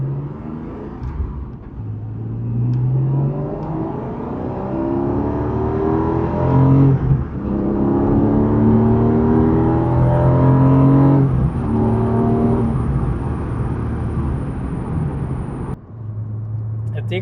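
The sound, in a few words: Porsche 718 Cayman GTS 4.0 engine and intake sound while accelerating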